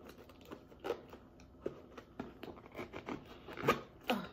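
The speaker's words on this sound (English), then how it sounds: "What I don't like about this zipper is that it's so long." The long zipper on a brown SHEIN purse is pulled open and shut in quick, soft rasping bursts, close by and fairly faint, with short pauses between strokes.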